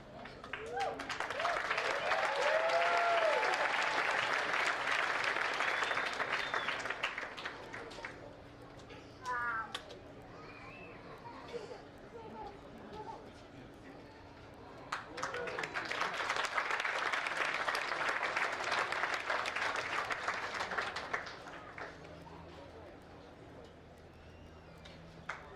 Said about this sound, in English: Big round of applause for our two champions, and our two new course record holders, Jennifer Richter